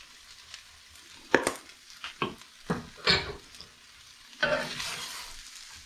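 Garlic stirred and sizzling in a frying pan for a frittata, a steady sizzle broken by several scraping stirs against the pan, close and fairly quiet, with no talk.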